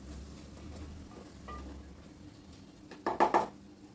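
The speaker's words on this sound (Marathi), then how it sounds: "एकदा हलवून घेऊया. आता गॅस मोठाच राहू द्या." Pav bhaji masala with tomatoes and oil sizzling in a pan over a high gas flame, a steady low fry throughout, then a short burst of scraping and clattering as a spoon stirs it near the end.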